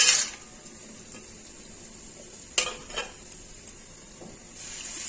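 Raw soybean chunks tipped into a pan of sizzling fried spice paste for a potato-soybean curry: a sharp burst of frying, soft sizzle, then utensil clinks and scraping taps.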